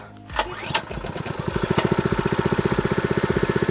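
A SERV-50Z high-pressure pump engine is pulled to start, then catches and settles into a loud, close, rapid chugging idle with a steady mechanical rhythm.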